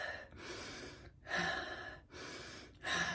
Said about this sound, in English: as I breathe, I contract my pelvic floor. I pull it in and I circulate the breath